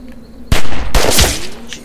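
Gunfire in The Walking Dead: 400 Days, two sharp loud bursts close together with a rattling tail, ringing over a low background hum, no talking.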